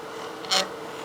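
A wood-turning scraper takes a light cut on a spinning figured maple box on the lathe, giving one short, close rasping scrape about a tenth of a second long over a steady low hum.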